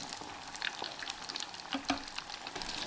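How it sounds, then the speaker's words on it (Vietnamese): Chicken pieces deep-frying fast in very hot oil at 195-200°C for salt-roasted chicken, giving a steady, fairly quiet crackling sizzle with scattered sharp pops, heard close and without talk. "Và mình chiên thiệt là nhanh, 2 hoặc là 3 phút cho đến khi mình thấy nâu vàng."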